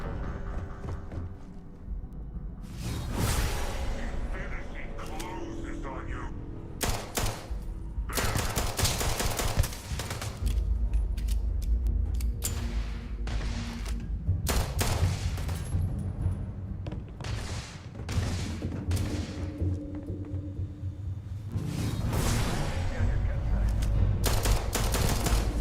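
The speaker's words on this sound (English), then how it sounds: "Damn, this pistol's putting in work." Pistol firing .45 ACP rounds in the space game Starfield: repeated loud shots in bursts, with clusters of sharp cracks over a constant background of game noise.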